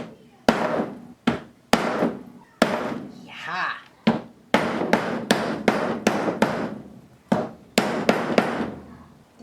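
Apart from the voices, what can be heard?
glass jars being smashed with a hammer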